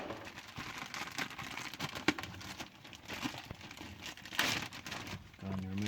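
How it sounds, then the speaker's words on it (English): A new RAM cabin air filter for a 2006–2011 Honda Civic, made with baking soda and activated carbon, pulled from its crinkly plastic packaging: steady close crumpling and rustling with a few sharper tearing crackles, no talking. "and remove from the packaging."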